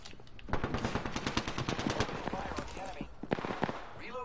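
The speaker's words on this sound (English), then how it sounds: "And I'm getting shot at." Rapid bursts of automatic gunfire from a video game rattle steadily for a few seconds, fairly quiet, with some speech-like sound mixed in.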